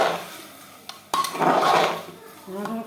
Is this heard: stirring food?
yes